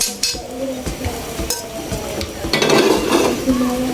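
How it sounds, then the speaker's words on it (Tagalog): Vegetables being stirred into cooked pancit bihon rice noodles in a pot, with repeated scraping and clinking of a utensil against metal over a soft background sizzle, close and moderately loud. "Eh, halo na natin yung gulay."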